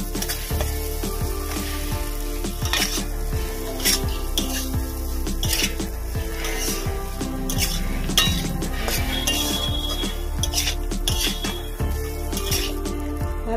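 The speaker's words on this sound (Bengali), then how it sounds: "আমি এবার মটরগুলো দিয়ে দেবো।" Peas stirred into frying masala for Bengali ghugni, with a steady sizzle and repeated scraping strokes of a spoon against the pan, plus occasional clinks of metal utensils throughout.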